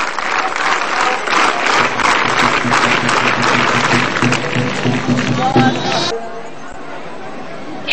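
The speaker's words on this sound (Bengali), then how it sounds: "আমরা দেখলাম সবাই করতালি দিল" Crowd applause at an Independence Day ceremony in Kaliganj, Satkhira, as peace doves are released, loud, dense clapping mixed with chatter and voices for about six seconds, then cutting off to a quieter murmur.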